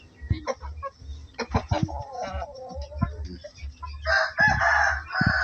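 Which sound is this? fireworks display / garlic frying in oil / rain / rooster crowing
rooster crowing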